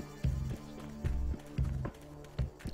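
Running footsteps of the player character in the video game Sniper Ghost Warrior, a steady run of heavy, thudding steps roughly every half second, close and fairly loud with no talk over them.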